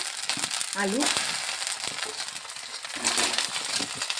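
Potatoes drop into hot oil spiced with cumin and asafoetida for dahi aloo dum, giving a crackling, sputtering sizzle with clatter and stirring, and someone speaks under it.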